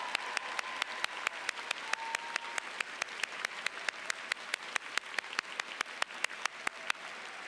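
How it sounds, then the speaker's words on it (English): Applause at an art college commencement ceremony, a large crowd clapping steadily with a regular, almost rhythmic pulse of sharp claps standing out over the dense wash, sustained throughout. "How about a round of applause?"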